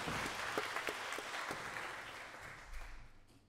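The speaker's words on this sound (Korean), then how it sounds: "박수로 하나님께" A church congregation claps during a Sunday worship service, a fairly faint patter of many hands that fades gradually over a few seconds.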